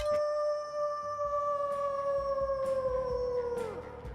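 A person imitating a wolf howl, one long sustained wavering howl that slides downward at the end, loud and close with no other sounds.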